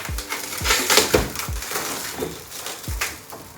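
Cracked, hail-damaged car windshield glass being worked loose and pulled out, with a series of sharp crunching and splintering cracks, close and fairly loud, several bursts spread across the moment without speech.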